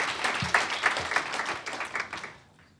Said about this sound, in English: Please give them a round of applause for the great work they're doing here in New York.